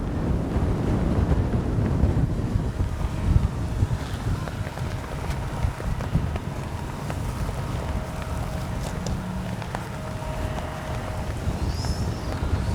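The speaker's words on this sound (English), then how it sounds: "Yeah, it is so windy." Strong, steady wind roars and buffets the microphone at an RC jet flying field, a continuous low rumble with gusty fluctuations throughout and no voices.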